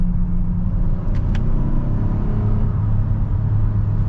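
A 2023 Honda Odyssey minivan accelerating, heard from inside the cabin as a steady low engine drone and road rumble, constant and fairly loud with a couple of faint clicks partway through.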